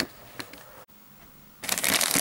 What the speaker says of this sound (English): so the plastic bag must go.